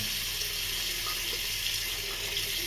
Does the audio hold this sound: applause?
no